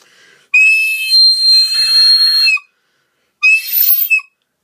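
Two shrill, piercing recorder blasts played very loud, the first held for about two seconds, then a short gap before a briefer second blast, sounded alone and close.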